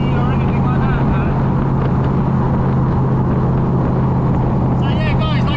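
Loud V8 engine of a Gardner Douglas Cobra droning steadily while driving, heavy low rumble mixed with wind buffeting, someone talking over it.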